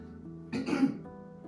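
A single short throat clearing, close and fairly soft, with a brief rough burst in the middle of an otherwise quiet stretch.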